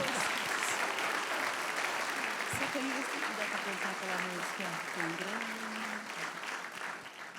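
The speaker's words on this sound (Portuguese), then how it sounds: "Aplauda forte mais uma vez." A congregation claps strongly in church, a steady, full wash of applause that tapers slightly toward the end, while a voice speaks underneath partway through.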